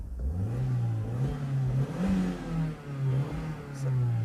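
An Audi TT MK1 engine heard from inside the cabin while accelerating, a low, moderately loud drone whose pitch climbs and dips through several throttle swells, with road and interior rumble beneath and no talking.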